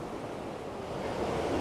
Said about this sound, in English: White water falling off there